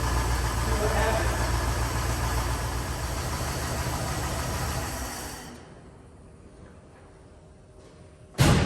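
A barn-find Buick engine idles while warming up, a loud, steady low rumble with a faint knock that drops away abruptly partway through, leaving quiet before a short loud burst near the end.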